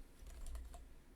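Someone types on a computer keyboard while writing code, a short burst of soft, quick key clicks set against low background hum with no one talking.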